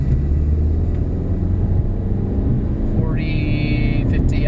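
A 2015 VW Jetta SE with the 1.8T turbo engine accelerates in third gear. The engine gives a steady, loud droning rumble inside the cabin, and a rising higher whine enters partway through.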